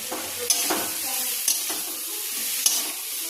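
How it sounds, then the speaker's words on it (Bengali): Fried puti fish and eggplant are stir-fried with spices in a pan, giving a continuous sizzle with a few sharp scraping clicks of the spatula spaced out over a few seconds, close and moderately loud, with no talking. "এখানে ভেজে রাখা পুঁটি মাছ আর বেগুনগুলি দিয়ে দেব, দিয়ে একটু কষিয়ে নেব মশলার সাথে"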